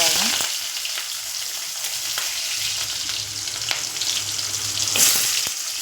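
Shallots (small onions) frying in hot oil already seasoned with popped mustard seeds, a steady close sizzle and crackle with a brief stir near the end, no voices.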